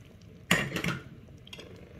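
Peas are stirred into a pan of beef kidneys, one clattering scrape of utensil against the pan followed by a softer stir, close and moderately loud against a quiet background.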